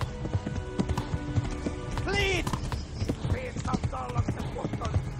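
Horse galloping in Kingdom Come: Deliverance, rapid hoof clip-clops running steadily and fairly close amid game ambience, with a brief whinny midway and someone talking over it.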